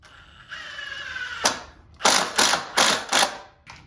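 Screws being driven into wood while assembling a DIY body armor stand, a handful of short, loud mechanical whirring bursts in quick succession with brief pauses between, close up and with no talking.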